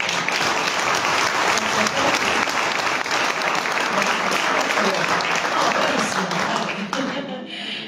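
Audience at the Premio Matrona Busa award ceremony in Canosa di Puglia applauds, a dense, loud, sustained wash of clapping filling the room, with voices mixed in beneath before it thins near the end.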